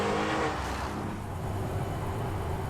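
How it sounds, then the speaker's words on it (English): Sports car engine revving behind a truck in American Truck Simulator, a moderate rushing roar that surges briefly then settles into a steady rumble, with no talking. "Look at that sports car behind us"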